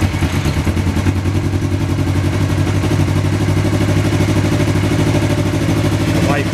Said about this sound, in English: So now you just want to start your bike.